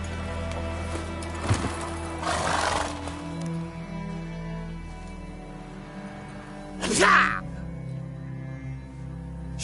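Roach, a horse in The Witcher video game, whinnies in short bursts with a few hoof sounds nearby, and a voice speaks briefly over it.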